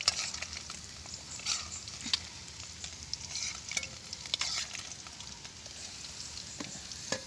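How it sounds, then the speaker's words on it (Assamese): Hot cooking oil sizzling in a pan, a quiet, hissing crackle with scattered sharp pops, close by and with no voices. "তেল গৰম হৈ গ'ল।"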